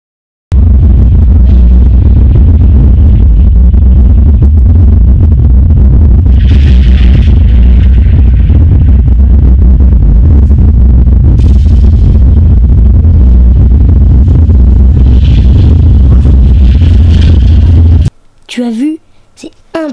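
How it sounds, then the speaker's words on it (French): A volcanic eruption on Lanzarote roars as a continuous deep, loud rumble with bursts and booms, filling most of the clip before cutting to a short quiet section with a voice. "Tu sais que j'ai déjà vécu une éruption."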